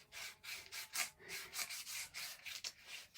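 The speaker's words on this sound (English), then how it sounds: "sandpaper's good for this sort of thing, just trimming it up." Sandpaper rubbed back and forth by hand to trim a crafted piece, a loud close rasping scrape in a steady rhythm of about a dozen quick strokes with no talking.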